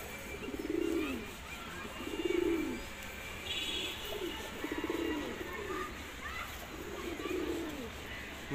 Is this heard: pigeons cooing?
yes